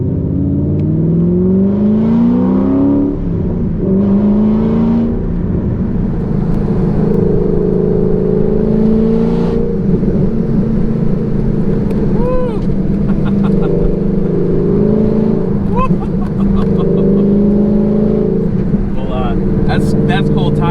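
A Ford GT revving and accelerating hard on cold tires that lose grip, its engine note rising and falling in repeated surges close by, with someone talking over it.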